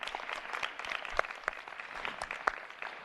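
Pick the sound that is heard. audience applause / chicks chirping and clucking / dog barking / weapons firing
audience applause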